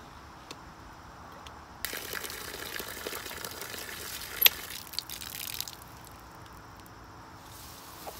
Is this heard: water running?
yes